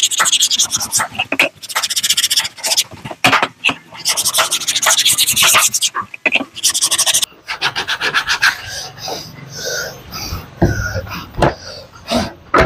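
Coarse sandpaper worked by hand over half-inch MDF, a run of rough rasping strokes in uneven bursts, close and fairly loud, with short pauses and some rustling toward the end.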